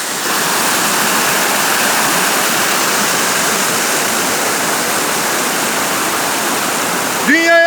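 A waterfall roars steadily and loudly, a dense wash of falling water that continues unbroken, with a brief chirpy sound right at the end.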